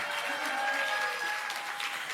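An audience at a Democratic Party of Korea anniversary ceremony claps for an award recipient, a brief, moderately distant burst of steady applause from a large hall.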